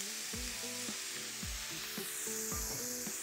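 Onions and garlic sizzle steadily in a pan as chicken broth goes in, a continuous close frying hiss with soft stirring scrapes and clinks throughout, no talking.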